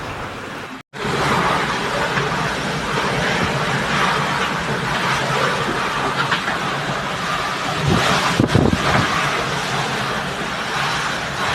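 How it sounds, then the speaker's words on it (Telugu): Strong storm winds and heavy rain in Madhya Pradesh make a loud, dense, unbroken roar that holds steady throughout, with a brief dropout near the start and a rougher gust swelling toward the end. "సుమారు 200 కిలోమీటర్ల వేగంతో ఈదురుగాలు వీచాయి"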